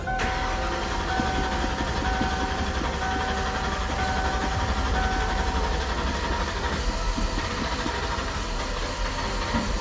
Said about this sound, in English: I'm sure it's going to take quite a bit of cranking.